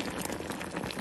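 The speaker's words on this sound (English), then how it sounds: "Just bring it to a boil" Plantains simmering in a pot of brown sugar and water come to a rolling boil, with continuous close bubbling and popping filling a brief stretch, no voices.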